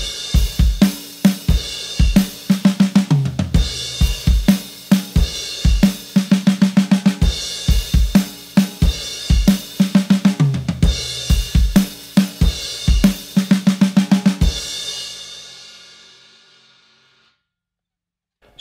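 Drum kit plays the second part of a chorus, with loud, steady snare backbeats, kick hits and bright crashing cymbals driving a fast rock pattern, then ringing out into a fading cymbal wash.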